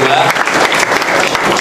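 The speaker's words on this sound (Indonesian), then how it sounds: "Beri tepuk tangan buat semuanya" An audience applauds at a student gathering with a politician, the clapping steady and dense throughout with a voice or cheers mixed into the crowd noise.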